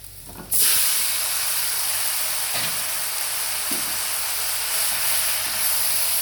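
Seasoned vegetables tossed into a hot pan of fried shallots give a loud burst, then settle into a steady, close sizzle and hiss with a few small clatters.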